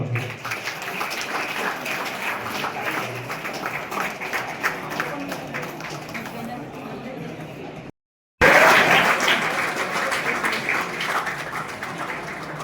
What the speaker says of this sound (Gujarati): તાળીઓ ચાલુ રાખજો